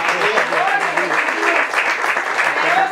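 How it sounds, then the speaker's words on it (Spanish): A church congregation applauds for Christ during a sermon, a dense burst of clapping that fills the space, with voices and shouts mixed in throughout the short stretch. "Dale un aplauso a Cristo."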